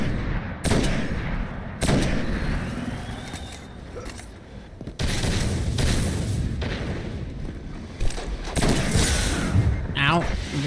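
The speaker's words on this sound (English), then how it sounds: "Ow, I'm being sniped." Sharp gunfire bursts from Destiny 1, loud cracks at irregular intervals among rumbling game noise and mechanical creaks, with a player talking throughout.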